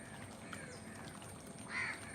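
A crow caws near Lake Vembanad at dawn: one fairly clear harsh call near the end over a steady outdoor background hum, with fainter bird sounds earlier.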